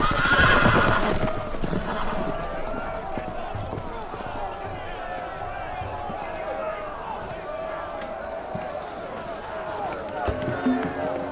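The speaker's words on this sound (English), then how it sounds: "The horses! They're loose!" Horses whinnying and galloping in the video game Game of Thrones: A Telltale Game, a sharp neigh up front followed by running hoofbeats and commotion, with voices shouting over the action.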